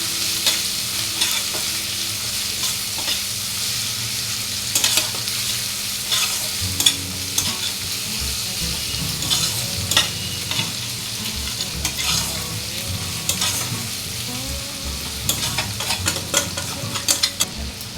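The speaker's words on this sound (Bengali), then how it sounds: "এটা ততক্ষণ ভাজবেন যতক্ষণ না রসুনের কাঁচা গন্ধটা" Garlic sizzles steadily in a hot pan of oil while a spoon stirs it, scraping and clinking against the metal at irregular intervals, close up with no talking.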